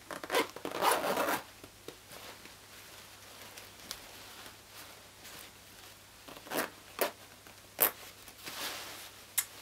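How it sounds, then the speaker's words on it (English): A zipper on a handmade pleated lolita skirt is pulled closed in several short, quiet scraping bursts with pauses between them, heard close up in a quiet room. "Close the zipper just to test it."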